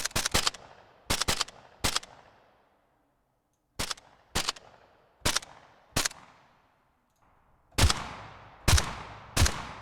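Synthetic gunshots from the Krotos Weaponizer plugin, with an added click layered into each, fire in short bursts of two or three sharp blasts with decaying tails and brief silences between them.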